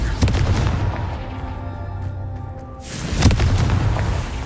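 Confringo blasting spell going off in the video game Hogwarts Legacy: two loud, booming bursts about three seconds apart, each a broad crackling explosion with a low rumbling tail over steady game ambience.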